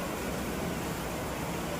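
A dense, steady wash of broadband noise like heavy rain pouring down, unbroken and uniform throughout with no voices.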